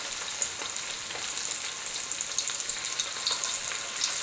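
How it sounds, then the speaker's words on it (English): Shrimp frying in a pan, a steady, close sizzle and crackle that holds for over four seconds, flecked with small pops and the occasional stirring scrape, with no one talking. "And we're going to go ahead on and cook the shrimp."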